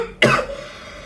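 A single sharp cough, close and loud, bursts out once, then trails into a brief low throaty tail and quiet.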